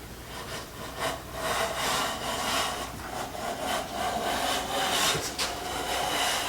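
A Stanley No 4 hand plane fitted with a 50 degree frog is pushed along a wooden test board. It makes repeated close, rasping strokes in a steady rhythm, with short pauses between passes.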